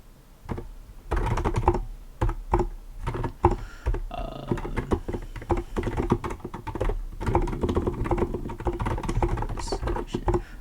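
Computer keyboard typing in quick irregular bursts of key clicks, close and fairly loud, while someone writes notes for a coding problem, with a voice faintly present beneath the keystrokes.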